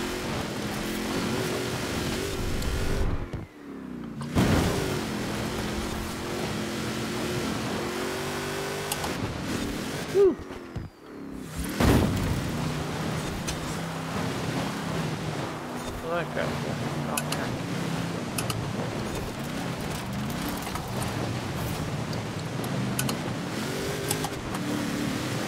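A car in Forza Horizon 4 driving off-road over icy terrain, engine droning and revving continuously with brief drops in sound, while a person talks over it.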